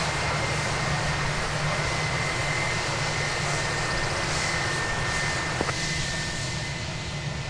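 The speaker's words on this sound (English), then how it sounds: "It's an Airbus A321 going to San Antonio, Texas." A steady, moderately loud jet engine rumble comes from an Airbus A321 at DFW Airport, a constant broadband roar with a faint whine on top and one brief click near the end, and no talking.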